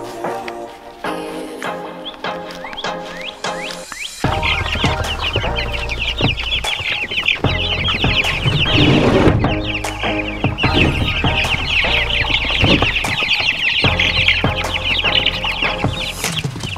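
Young chicks only a couple of weeks old cluck and peep in a loud, busy chorus close by, with repeated calls overlapping continuously and no talking.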